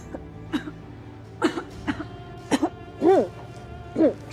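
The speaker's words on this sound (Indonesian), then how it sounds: "Kok jadi batuk-batuk gini ya?" Someone coughs and clears their throat about seven times in short, uneven bursts that grow stronger toward the end, close and alone in a quiet indoor scene from an Indonesian drama.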